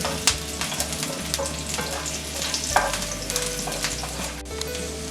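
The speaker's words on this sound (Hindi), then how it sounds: "अब हम इसमें हरी मिर्च डाल देते हैं। इसको थोड़ा सेक लेंगे।" Green chillies sizzle and crackle in hot oil in a pan, with close, continuous frying and occasional sharp pops and stirring knocks throughout.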